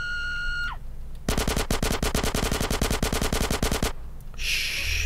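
A rapid burst of automatic gunfire from the video game GTA San Andreas, loud and close, with dozens of shots in a steady rhythm lasting nearly three seconds, set between quieter game sounds.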